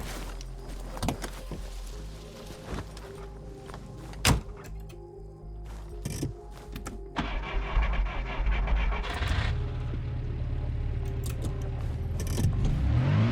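Starting a vehicle in the military game ARMA Reforger: scattered clicks and clunks, then an engine turns over and settles into a steady, rising low rumble that builds toward the end, with no one talking.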